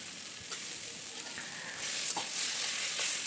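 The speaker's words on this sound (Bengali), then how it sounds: "কালো সর্ষে হলুদ সর্ষে সামান্য জিরে এবং আদা মশলাকে একটু নাড়িয়ে চাড়িয়ে" Black and yellow mustard seeds, cumin and ginger being stirred in a pan, a soft steady sizzle that swells louder in the second half, with faint scraping of the spoon.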